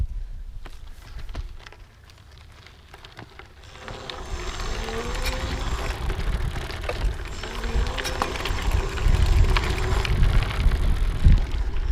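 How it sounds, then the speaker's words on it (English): EBO Mountaineer electric bike conversion kit motor whirring faintly as pedal assist engages while riding up a trail, rising gradually under steady wind rumble with no talking. "as I pedal, you can kind of listen for the motor to kick in"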